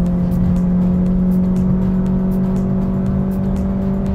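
A 2020 Ford Fusion Hybrid with a CVT accelerates, its engine holding a steady drone with faint whine overtones while road noise fills the background, loud and continuous with no talk.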